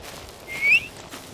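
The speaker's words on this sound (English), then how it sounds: "And then whistle." A single short, clear whistle from the climbing video game Cairn, rising briefly over quiet background ambience, alone with no talking.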